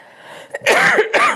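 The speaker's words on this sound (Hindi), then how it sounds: "देखो इस तरह से खांसी आ रही है" A woman gives a couple of sharp, harsh coughs close to the mic, one following a short pause, then another burst just after.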